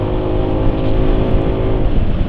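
Engine held at high RPM during an oil test with Valvoline XLD 20W-50, a loud, steady, close droning hum with no talk.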